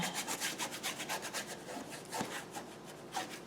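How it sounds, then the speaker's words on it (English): A paintbrush scrubbing paint onto canvas in quick rhythmic back-and-forth strokes, a soft close scratchy rubbing, with no voices. "Just scrubbing the paint on."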